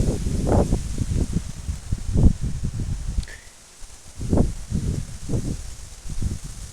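Gusts of a strong storm wind, Storm Federico at about 90 km/h, sweep through trees in surging waves of loud leafy rustling and hiss that rise and fall over several seconds.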